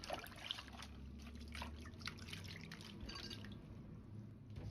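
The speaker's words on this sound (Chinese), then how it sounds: "再把白菜一片一片的掰開，放入水中清洗乾淨" Chinese cabbage leaves, broken apart one by one, are washed in water, with faint drips, trickles and gentle sloshing at low volume.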